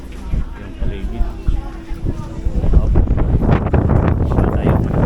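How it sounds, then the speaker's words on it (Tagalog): Strong gusty wind on a ferry deck buffets the microphone with low rumbling bursts, growing stronger, while a voice speaks underneath. "Malakas ang hangin."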